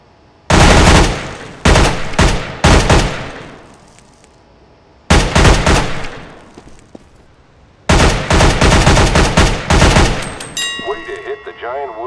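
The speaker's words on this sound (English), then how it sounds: "Observe your bullet spread and weapon kick during firing." Weapons fire in the CS:GO weapons course on PS3: three loud close bursts of rapid gunshots separated by short pauses, the last burst trailing into a ringing metallic ding, with no talk.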